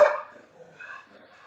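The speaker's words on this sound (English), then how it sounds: "Excuse me, that's my dog." A single short dog bark at the start, followed by softer trailing yips or whines, fairly close, in an indoor setting with no talking over it.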